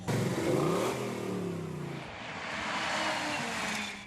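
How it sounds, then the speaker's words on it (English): Race car engines rev loudly at Auto Club Speedway during a racing event, a sustained roaring drone with rising and falling pitch sweeps, steady and close throughout with no talk. "Run them engines,"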